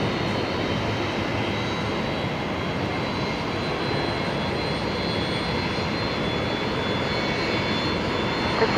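A Singapore Airlines jet rolling on runway 01 right at Brisbane Airport for takeoff, a steady, broad engine roar that stays loud and even from a distance with no talking.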